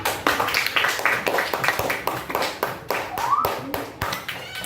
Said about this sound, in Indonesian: Tepuk tangan dong buat Riza.